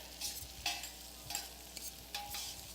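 Garlic fries quietly in a pan, a soft steady sizzle broken by a few scraping stir strokes from a utensil, with no talking.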